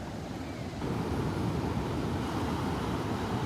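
Breakers rolling in close to a beach in northeast Florida, a continuous wash of surf that swells a little louder partway through, with some wind noise on the microphone.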